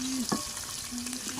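Catla fish curry masala with ginger and green chili is stirred as it fries in a pan, giving a steady sizzle with a few scraping strokes of the spoon close by.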